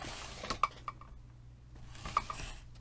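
Faint, scattered clicks and light clinks of ink pads being handled, a few sharp taps in quiet surroundings.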